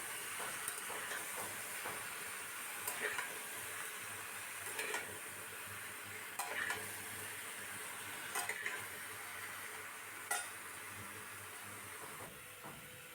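Food frying with ginger paste in a pan gives a faint, steady sizzle and hiss, broken every couple of seconds by short scraping bursts as it is stirred.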